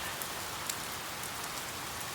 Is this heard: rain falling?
yes